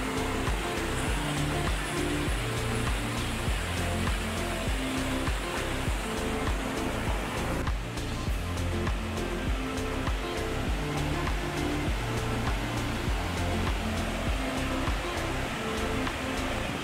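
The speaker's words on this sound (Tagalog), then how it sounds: "Medyo maingay lang, malakas yung agos." Rushing water of Malatap Falls, a waterfall in Labo, Camarines Norte, roars loud and steady throughout, a dense, continuous broadband wash of strong current with no pauses.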